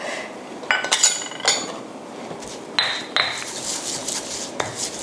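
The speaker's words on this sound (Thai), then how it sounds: "เราก็ใส่ตัวกะปิลงไปเคล้าให้ เข้ากันนิดนึงนะคะ" Shrimp paste being stirred into a bowl while preparing miang kham, giving a few close metallic clinks and scrapes of a utensil against the bowl in short bursts.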